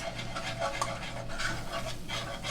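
Flour being stirred into four tablespoons of melted butter in a pan, a steady scraping and rubbing with faint sizzle, close and continuous with no talking.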